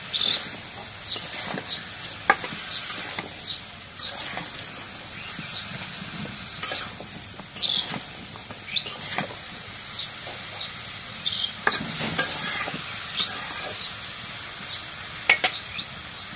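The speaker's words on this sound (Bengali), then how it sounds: "এখন মশলা লাল লাল তখন হয়ে গেছে, এখন তরকারিটা দিয়ে দিই।" Vegetables tipped into reddened frying spices in a pan and stirred, a soft sizzle under repeated sharp scrapes and clanks of a spoon, with faint background voices.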